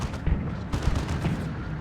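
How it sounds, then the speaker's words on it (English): A conversion beam fires in the Dawn of War 2 strategy game during an Ordo Malleus versus Orks match, producing a few heavy, booming blasts over a dense low rumble of battle. "a conversion beam is getting shots in"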